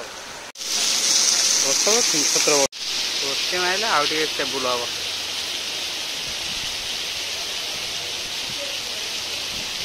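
Steady rain falls in a constant hiss throughout, while someone talks over it in the first half before the downpour continues on its own.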